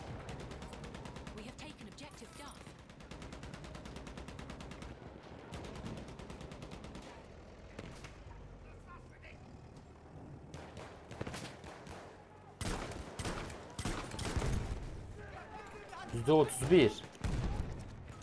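Battlefield 1 multiplayer battle at Amiens: scattered rifle and machine-gun fire crackling in rapid bursts at moderate distance, growing louder and denser near the end, with a player talking over it.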